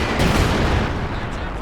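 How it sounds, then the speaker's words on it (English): Heavy artillery bombardment in the Company of Heroes 2 video game, a dense, continuous rumbling roar of blasts and gunfire, loud and sustained throughout. "the SUs are bombarding my position here"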